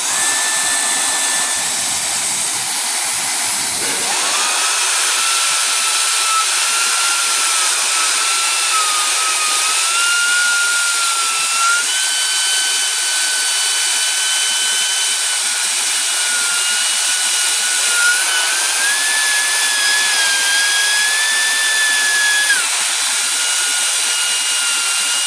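A Milwaukee knock-off cordless blower tool spins up and runs at high speed, a loud sustained whine and rushing air that holds steady for the whole stretch with slight pitch drifts.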